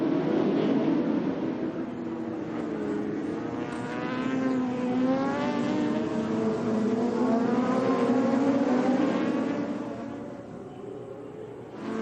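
Superbikes race at the Suzuka 8 Hours endurance event, their engines rising and falling in a continuous, wavering high-revving roar from a distance, swelling as machines pass and easing toward the end.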